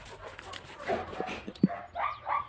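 A dog in a garden by a flower bed gives a few short, soft yips and whimpering barks, fairly close but quiet, scattered across the moment with brief pauses between them.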